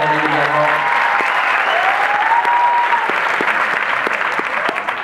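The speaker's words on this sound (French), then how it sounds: "on peut applaudir David également" Audience applause at a French film presentation, dense and steady clapping filling the room for the full stretch, with a brief voice at the start and faint chatter underneath.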